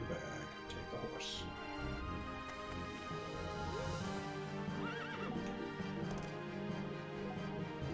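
A horse in the Berwick Saga video game whinnies once, a quiet, shrill, wavering neigh midway through, against a continuous layered game soundtrack.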